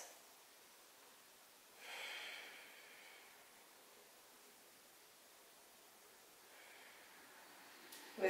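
Soft, faint breaths during a yoga tree pose, one slow breath early and another later over a quiet background hiss.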